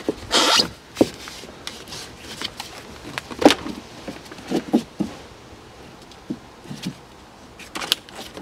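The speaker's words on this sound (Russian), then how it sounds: "выдергиваем шумоизоляцию." Sound insulation is pulled and torn away from the body of a Land Rover Defender 2.5 during a clutch and flywheel job, giving irregular close ripping, rustling and scraping bursts with short pauses between them.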